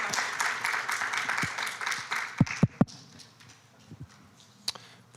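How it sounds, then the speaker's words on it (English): Modest audience applause for a city police department at a community scam-prevention talk, fading after about two seconds into a few scattered claps, thumps and handling noises in a quiet room. "Please give a round of applause for the Plantation Police Department."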